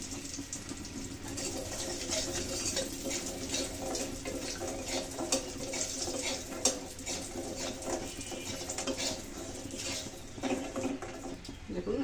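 Lentil dumplings (pumpkin bori) fry in hot oil until reddish, giving a steady, soft sizzle and crackle with faint pops throughout, close and moderately quiet.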